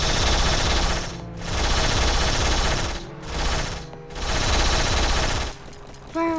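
Sustained rapid gunfire from a Roblox Jailbreak shootout at a prison, loud bursts separated by short gaps, with a brief synth tone at the end.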